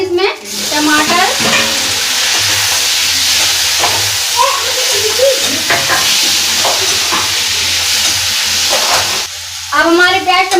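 Tomatoes go into onions and garlic frying in a pan, producing a loud, steady hissing sizzle with occasional stirring scrapes, and a voice speaks briefly at the start and end.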